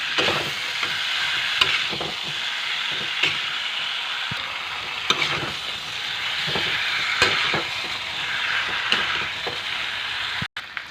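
Continuous sizzling of fish curry with turnip and spices frying in a pan, broken by regular scraping strokes of a spoon stirring it, close up and with no talking.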